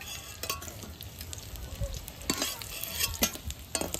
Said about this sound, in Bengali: মাছ ভাজা হয়ে গেছে, মাছটা তুলে নেবো। কড়া করে ভাজবো না?